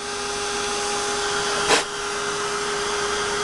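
A heat tool blows steadily to set freshly stamped ink, giving a continuous close whir with a brief louder burst partway through.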